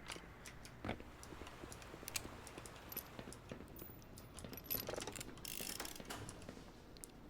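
Grinder and conveyor machinery in the video game Black Mesa, with a steady mechanical rattle of gears and ratcheting clicks, faint and continuous throughout, no talking.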